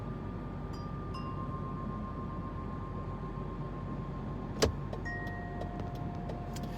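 A car drives around a bus, a low, steady engine and road hum filling the cabin, with a soft click and faint chimes partway through and no talking.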